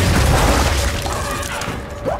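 A grenade explosion in the Gears of War 4 video game, a loud, broad booming blast that fills the whole clip before tailing off at the end.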